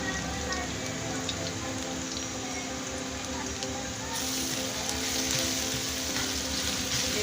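Ginger garlic paste sizzles steadily in a pan with fried onions while cooking a desi tinda curry, a continuous crackling hiss that swells slightly louder toward the end, with faint talk in the background.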